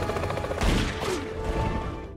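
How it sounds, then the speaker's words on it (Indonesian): A gunshot rings out in an action film scene, a loud burst with crashing, booming layers under a dense score-like background, brief and close. "Di sini si FBI harus terkena tembakan dari Redo"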